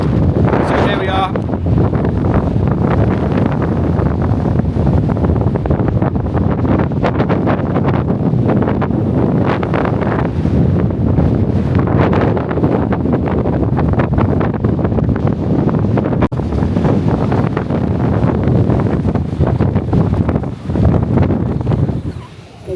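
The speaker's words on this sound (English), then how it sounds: "it's so windy" Strong wind roars and buffets the microphone nonstop, a loud rumbling rush, with a voice faintly under it at times.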